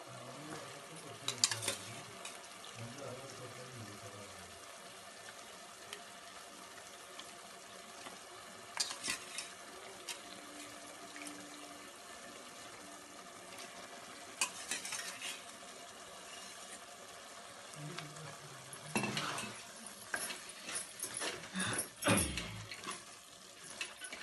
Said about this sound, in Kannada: ಸ್ವಲ್ಪ ಮಸಾಲೆ ಒಳಗಡೆ ಬೆಂದಿರೋ ಮಟನ್ ಫ್ರೈ ಆಗಬೇಕು ಚೆನ್ನಾಗಿ